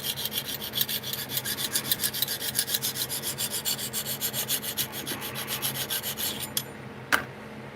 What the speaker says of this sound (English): This knife is starting to take a while to sharpen.